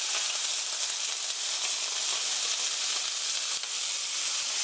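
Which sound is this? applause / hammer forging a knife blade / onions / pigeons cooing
onions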